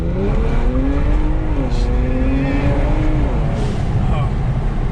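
A Genesis G70 with a JB4 tune accelerating hard in manual mode and briefly losing traction, a loud close engine roar with rising and dipping tone while people talk inside the car.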